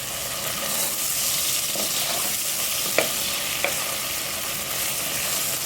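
Ginger garlic paste and softened onions fry in a pan for white chicken pulao while being stirred, a constant close sizzle broken by a few sharp spoon clicks against the pan.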